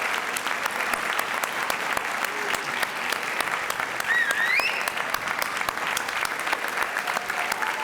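Audience applause at a high school scholarship awards assembly for art and music students, steady dense clapping from a large crowd throughout, with a faint whistle partway through.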